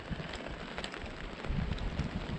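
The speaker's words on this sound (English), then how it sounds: "Rain just picked up again." Rain falls steadily in the northern Manitoba wilderness, a close, continuous hiss with scattered drop patter that swells slightly toward the end, with no voices.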